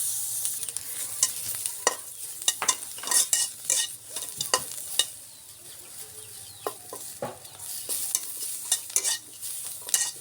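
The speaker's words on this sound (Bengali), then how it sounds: "পেঁয়াজ, রসুন, কাঁচা লঙ্কা ভালো করে একসাথে ভেজে নেব।" Onion, garlic and green chili frying together in a pan, a close sizzle broken by frequent scraping stirs and clatters, with a chicken clucking faintly in the background.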